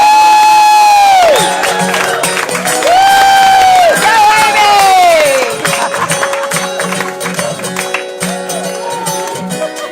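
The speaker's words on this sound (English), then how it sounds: "Give yourselves a round of applause." A loud live-show audience cheers and whoops with high excited voices after a sung performance, the noise gradually thinning out toward the end.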